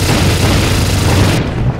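A loud, sustained rocket-fire explosion from the Call of Duty: Modern Warfare video game, a dense roaring boom that fills the space for nearly two seconds before cutting off abruptly.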